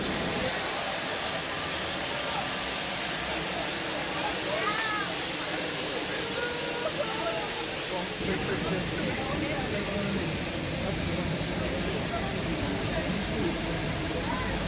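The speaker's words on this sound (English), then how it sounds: "Train's just come in." Steam locomotive City of Wells pulling into a station on a heritage railway, a steady hiss of steam and rolling rumble filling the scene, with people talking nearby over the noise.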